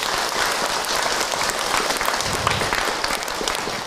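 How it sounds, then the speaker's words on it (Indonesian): An audience at an Islamic religious lecture breaks into dense, continuous clapping that holds at an even level for a few seconds. "boleh tepuk tangan untuk Ahilman Ibu"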